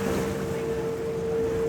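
A Venice water bus cruises the Grand Canal with a steady, close engine drone, a sustained hum over the rush of water and wind that continues without a break.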